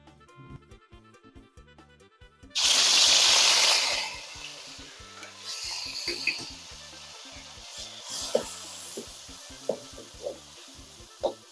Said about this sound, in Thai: น้ำมันลงไปเล็กน้อยเอาพี่แกงลงไปคั่วเลยครับ